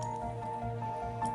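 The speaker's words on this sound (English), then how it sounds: "just going to rinse it, rinse out the beaker" Water rinses out a lab beaker in a brief, soft trickling and dripping under a steady background hum.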